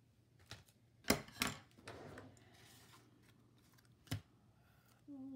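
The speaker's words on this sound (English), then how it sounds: "Just cut a couple pieces from my foam tape." Scissors snip through pieces of foam craft tape in a quiet room: a few sharp, close cuts, with two quick snips early on and a single one later.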